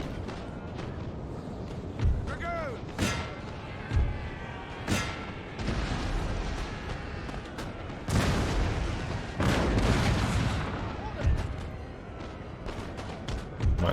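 Cannon booms and crackling musket volleys ring out across a Napoleonic battlefield in Napoleon: Total War, heavy thuds and rattling fire spaced irregularly at varied distances, some near and loud, others softer and further off.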